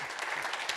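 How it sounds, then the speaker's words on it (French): Brief, dense applause from an audience thanking the panel speakers at an annual meeting, a steady wash of clapping filling the whole short moment. "je pense qu'on peut applaudir"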